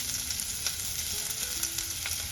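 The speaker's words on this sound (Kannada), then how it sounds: "ಎಣ್ಣೆ ಬಿಸಿ ಆಗಿದೆ, ಕಟ್ ಮಾಡಿ ಇಟ್ಕೊಂಡಿದ್ವಲ್ಲ ಈರುಳ್ಳಿ," Chopped onions fry in hot coconut oil for a village-style egg sambar, a steady close sizzle with soft crackles and no voices.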